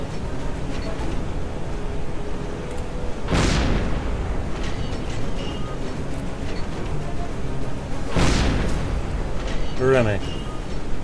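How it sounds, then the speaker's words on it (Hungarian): Two heavy shell-hit explosions on a rough sea in the Silent Hunter III submarine game, each a loud sudden boom with a rumbling tail, a few seconds apart over a steady engine and sea drone. "Üdvözlő lövés talált."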